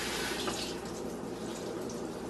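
One cup of water pours into a cooking pan, a faint, continuous splashing trickle that runs steadily for a couple of seconds with no talking.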